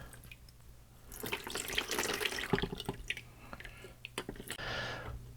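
Warm distilled water splashes and trickles over a Commodore VIC-20 circuit board being rinsed, starting quietly, then a loud close pour with wet dripping and squishy splatter before fading into a softer stream.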